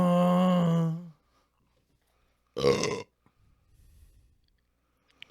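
A loud, drawn-out human belch lasting about a second, then a pause before a second, shorter and rougher burp, with faint rustling afterward.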